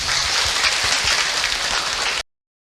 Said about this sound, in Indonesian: Tepuk tangan buat Ibu Fatimah.